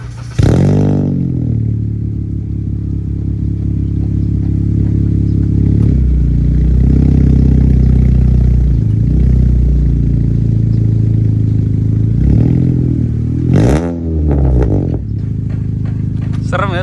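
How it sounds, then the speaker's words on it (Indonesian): Honda Jazz GK5 with a full-system exhaust and no resonator, running straight back from the downpipe, revs loudly and repeatedly, with deep rising and falling blips and brief pauses between throttle bursts. "kita mau cek sound gimana suara Jazz full system buat knalpotnya"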